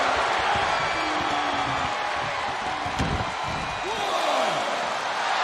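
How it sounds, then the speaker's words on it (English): Arena crowd noise from the wrestling video game WWE 2K22 roars as a steady, dense wash throughout, with a few thuds and whistle-like calls rising over the sustained cheering. "This crowd is deafening,"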